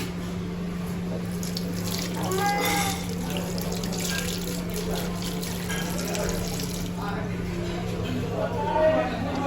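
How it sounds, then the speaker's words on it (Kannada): Water runs steadily from a tap during handwashing, a continuous splashing hiss beneath a constant electrical hum, with people talking throughout. "ಹ್ಯಾಂಡ್ ವಾಶ್ ಮಾಡಲಿಕ್ಕೆ ಅಂತ ಹೇಳಿ ಬಂದಿದ್ದೇವೆ ನೋಡಿ."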